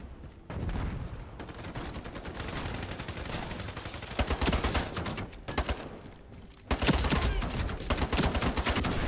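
Sustained gunfire in the Ironsight video game, dense rapid automatic bursts that run almost continuously, loud and close, with a short lull before a final heavier volley.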